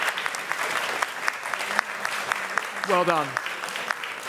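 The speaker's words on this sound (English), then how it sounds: "And that applause is actually for the underbidder as much as for the buyer." Applause from an auction room audience at a London evening sale of 20th and 21st century art, a steady clatter of clapping following a sale, with a voice speaking briefly over it.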